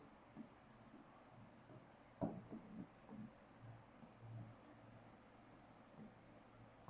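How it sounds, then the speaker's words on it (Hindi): Marker or chalk strokes on a board during a chemistry lesson, a series of short scratchy squeaks and swipes coming in quick bursts, close and fairly faint, with a low room hum underneath. "यहाँ लिखता हूँ, यहाँ देखो, ये देखो"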